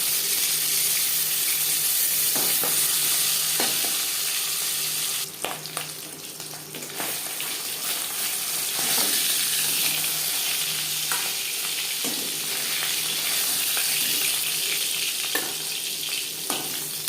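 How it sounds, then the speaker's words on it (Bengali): Pangas fish fries in a pan of hot oil, sizzling continuously with scattered pops and spluttering crackles and a brief scrape partway through, close and fairly loud with no talking. "তৈলাক্ত মাছ ভাজা করার সময় ফাটে"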